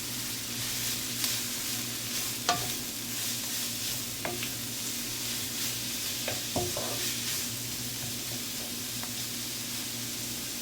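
Carrots are stirred in a cooking pot for noodle soup, a soft sizzle broken by several sharp scrapes and knocks of the utensil against the pot, with no talk.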